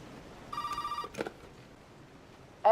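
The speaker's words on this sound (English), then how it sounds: "you get a phone call from a mysterious southern girl" Telephone ringing in the survival horror game Resident Evil 7, a single electronic ring burst with steady tonal pulses, followed by a short clatter and then quiet.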